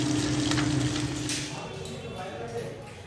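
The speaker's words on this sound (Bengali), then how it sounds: "মাছ ভাজাও প্রায় কমপ্লিট।" Fish frying in a pan makes a continuous close sizzle that softens slightly halfway through, with a faint voice in the background.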